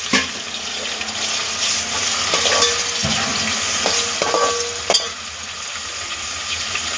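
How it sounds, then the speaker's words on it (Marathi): Tomatoes and slit green chillies sizzle and crackle in hot oil while being stirred with a spoon, a steady frying hiss with scraping strokes and a few sharp clicks, close up with no talk. "त्यामध्ये आता आपण टोमॅटो टाकणार आहोत, यामध्येच आपण ज्या 2 ते 3 मिरच्या घेतल्या होत्या उभ्या चिरून त्या ॲड करणार आहोत।"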